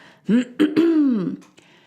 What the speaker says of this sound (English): I'm going to clear my throat and say this louder